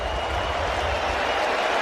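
A packed Cleveland ballpark crowd roars and applauds in a dense, steady wash after a solo home run in an MLB AL Wild Card game against Detroit, loud and sustained throughout.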